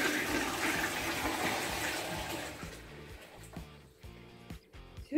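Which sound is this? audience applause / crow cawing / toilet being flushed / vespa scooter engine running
toilet being flushed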